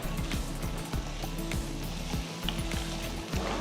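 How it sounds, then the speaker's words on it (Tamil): Shallots and garlic sautéing in a pan for a Tamil kuzhambu, a steady sizzle and crackle under a repeating low mechanical ticking, with no voices. "ஸோ இது ஒரு 5 மினிட்ஸ் நல்லா வதங்கட்டும்"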